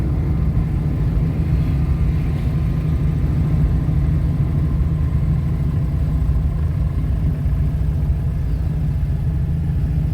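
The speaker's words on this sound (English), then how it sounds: "we're hearing a noise coming from the gearbox" A Honda K24 six-speed gearbox whining and droning in a steady, loud, low mechanical hum under a running engine, continuous with no pauses and no talking.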